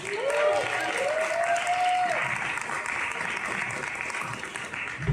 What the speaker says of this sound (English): can we get a big round of applause for Linnea Dupree?